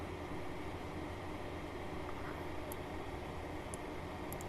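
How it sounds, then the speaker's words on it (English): A heavily loaded freight train strains along the line in Train Simulator 2020, a steady broadband rumble and hiss of engine and rolling wagons holding constant throughout, with a few faint high tonal blips near the end. "And there's the train that's struggling."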